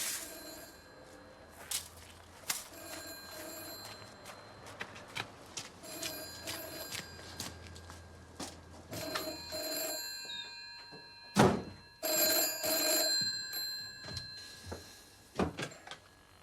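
An old-style telephone bell rings in repeated double bursts in a quiet house, with clear pauses between rings, followed by thuds and handling noises near the end.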